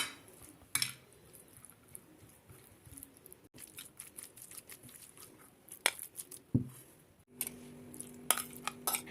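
Yogurt stirred into cooled black cabbage (kara lahana) for a salad, quiet wet scraping and clinking of a utensil against a bowl in uneven strokes, with occasional sharper taps and clatters.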